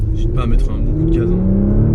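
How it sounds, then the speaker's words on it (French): Porsche Macan Turbo (2020) bi-turbo engine pulling hard under acceleration, its rising whir and rumble sustained and loud inside the cabin while someone talks over it. "N'hésite pas à mettre un bon coup de gaz."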